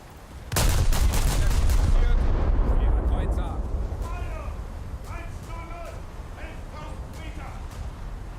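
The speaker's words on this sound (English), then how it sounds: "So let's shoot at some cruisers first." Heavy naval guns from a warship in a naval video game fire a sudden loud salvo of several rapid blasts, followed by a long rumbling roar that slowly fades, with someone talking faintly over the tail.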